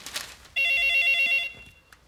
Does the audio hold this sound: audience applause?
no